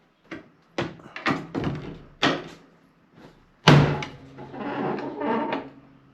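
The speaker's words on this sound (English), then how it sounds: "So let's see if we can get this door open." The damaged door of a Buick Skylark is worked open with a series of close metallic clunks and rattles, ending in a louder thunk followed by a longer grinding, scraping swing, with no talk.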